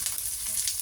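Garlic and onion sautéing in hot pork fat for pechay, a brief burst of close, steady sizzling and crackling with no talk.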